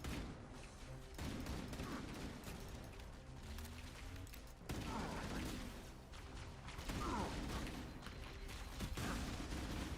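Rapid automatic bursts from the Halo 1 assault rifle in the game Halo, several sustained volleys of clattering gunfire with brief pauses between, loud and close.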